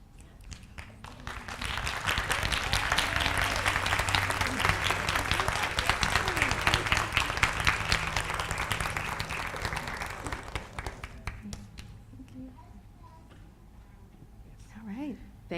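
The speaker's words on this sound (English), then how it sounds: "another round of applause for Dr. Lindsey." An audience at a university lecture on women's, gender and sexuality studies bursts into sustained applause, dense clapping swelling and holding for about eight seconds before thinning out, with a voice speaking faintly near the end.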